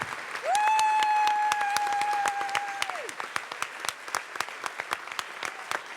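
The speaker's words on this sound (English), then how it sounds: "how about one more round of applause for our amazing Los Angeles storytellers" Audience applause at a live storytelling show in Los Angeles, steady clapping that fades into scattered claps, with a sustained tone ringing out early on under it.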